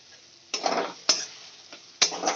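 Rice is sautéed in a pan for a fish-head murighonto made with a katla head, giving soft sizzling bursts broken by three sharp metallic taps of a spoon against the pan.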